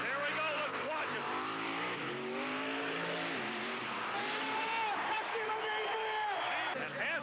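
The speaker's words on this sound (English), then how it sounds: "you're going to see one of the wildest monster truck launches ever" A monster truck engine revs hard during a launch at the 1990 General Tire 4 Wheel Jamboree in Indianapolis, with rising and falling whine swells while an announcer talks over it.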